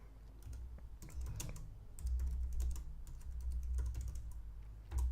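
Fast typing on a computer keyboard, with bursts of close, crisp key clicks in an uneven rhythm over a steady low hum.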